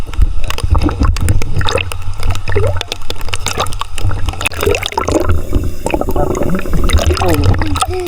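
Water sloshes and splashes steadily as someone swims using only one arm, with broad wet churning throughout and voices talking over it.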